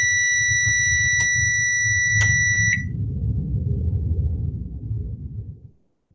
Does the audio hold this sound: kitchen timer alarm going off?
yes